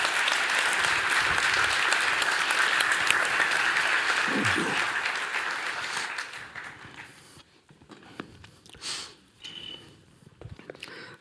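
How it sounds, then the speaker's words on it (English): Conference audience applauding a speaker as he is welcomed to the stage in Denmark: loud, sustained clapping from a crowd that fades out after about six seconds, followed by scattered footsteps, shuffles and a sniff. "Please give an applause to Aaron."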